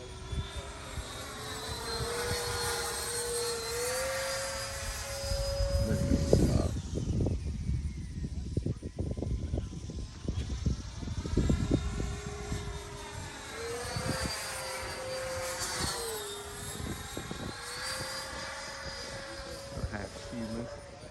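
A Freewing F-86 Sabre model jet with an 80mm electric ducted fan whines steadily with a rising and falling pitch as it passes and circles, with wind buffeting and a voice talking over it.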